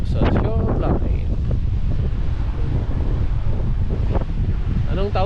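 Heavy wind roars across the microphone in steady gusts at a Hawaii shoreline near Halona Blowhole, with a distant wash like surf underneath and brief faint voices near the start and end.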